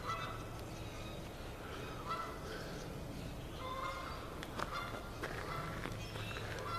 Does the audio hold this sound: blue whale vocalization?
no